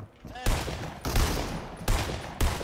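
Video game gunfire comes in several sharp, loud bursts of rapid shots in quick succession, each followed by a rattling echo, with a voice briefly heard at the start.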